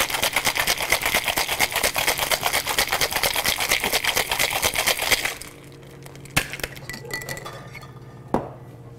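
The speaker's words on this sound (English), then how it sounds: "And then you're really gonna shake this thing because it's got egg white in it." A cocktail shaker holding an egg-white drink is shaken hard, giving a loud, steady rapid rattle for about five seconds, then stopping, followed by a quieter pause broken by two sharp clinks.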